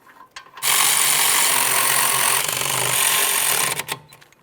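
A power tool runs steadily for about three seconds while mounting bolts are tightened on the rear hub assembly of a 2009-2014 Nissan Maxima 3.5L, a loud continuous whir with short clicks before and after.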